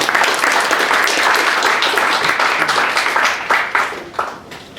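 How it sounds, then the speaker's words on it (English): An audience at a corporate meetup gives a guest speaker a big round of applause, loud, sustained clapping from many hands that thins out toward the end. "Let's give him a big round of applause."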